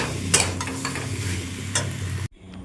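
Maggi noodles with sauce sizzle in a pan under steady stirring, with a couple of sharp scrapes of the spoon. The sound cuts off abruptly near the end, and no one speaks.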